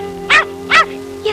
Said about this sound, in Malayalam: എന്താ ഈ പട്ടിക്ക്?